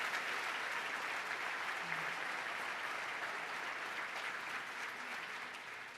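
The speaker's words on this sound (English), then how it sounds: "I would like all of them to stand and receive our applause." Sustained audience applause at a state government address, greeting county executives and borough presidents as they stand; dense clapping from a large room, steady throughout and easing slightly toward the end, with no talk over it.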